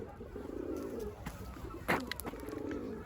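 Female Arab breed pigeon cooing close by in soft, rolling murmurs, with a brief louder flutter or knock partway through.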